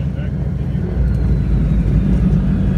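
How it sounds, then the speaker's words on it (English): A float plane's engine, on an amphibian Grand Caravan EX, drones loudly close by during a pre-takeoff run-up on the water, swelling slightly partway through, with a low constant roar and no clear speech. "completing a pre-takeoff run-up checklist in a float plane requires a bit of planning"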